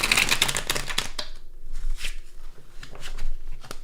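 A deck of tarot cards is shuffled close by, rapid crisp riffling and flicking that comes in quick bursts, with no talk over it.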